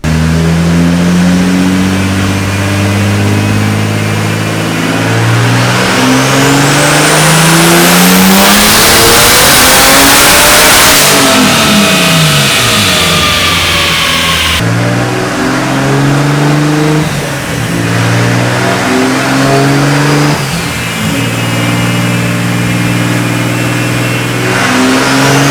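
A Formula Drift Pro 2 car strapped to a dyno, its engine revving hard and loud, climbing through the gears with rising whine and overlapping harmonics, then easing off and pulling again, close and alone with no talk.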